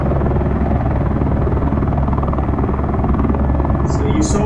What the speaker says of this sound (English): let's land the helicopter